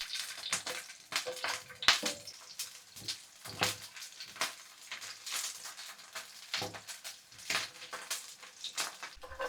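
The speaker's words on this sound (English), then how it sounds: "Put in the chopped onions, fry them until they're translucent." Chopped onions frying in cooking oil over medium heat in a pan, a crackling sizzle broken by scraping and clattering stirring sounds, close and irregular.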